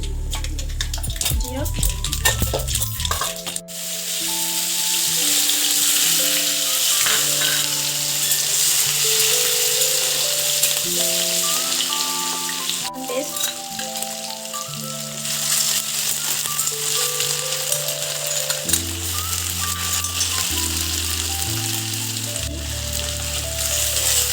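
Mustard seeds sputter and crackle in hot oil in a pan for a potato filling, a steady sizzle running throughout beneath background music with a melodic tune.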